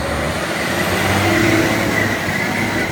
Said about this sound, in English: He's seeing if he can get it to load the engine enough to find the fault again.